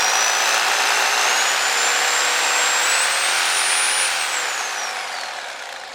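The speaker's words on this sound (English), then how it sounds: "It's not the fastest slowing down because it doesn't have an electronic brake, but it slows down faster than some tools do." A Bosch GSA1100E reciprocating saw runs at a steady high whine, then slows and winds down over a couple of seconds with no brake, fading as it coasts. The saw is close and loud, with no talking.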